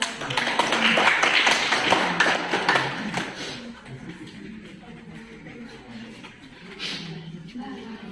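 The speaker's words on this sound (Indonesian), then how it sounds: "Tepuk tangan dong." A classroom full of students claps hands together, a fairly loud burst of dense claps that thins out and fades within a few seconds, leaving quiet room noise and a faint voice afterward.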